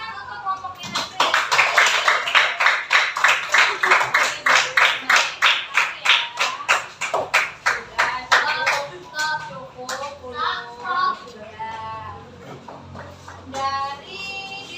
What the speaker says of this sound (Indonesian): Beri tepuk tangan untuk kelompoknya Nasri.